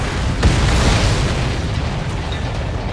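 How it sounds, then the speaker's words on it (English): A missile launches and explodes in the combat flight game Ace Combat 7, a loud roaring boom with a sharp burst near the start that decays into a heavy rumbling wash. "Missile launched."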